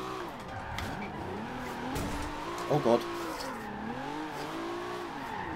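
A Nissan 300ZX drifting in Forza Horizon 2 holds a steady engine drone with a wavering tire squeal as it slides through a corner, while a man gives a short exclamation midway.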